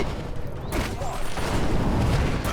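Explosion in the video game Prototype 2: a sudden loud blast followed by rumbling debris and continued crackling booms, dense and close, with game noise throughout.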